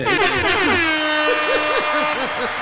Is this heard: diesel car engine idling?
no